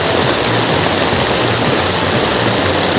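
Heavy rain pours steadily and loudly during a Lakshmi Puja festival, a dense continuous hiss with no gaps and no voices.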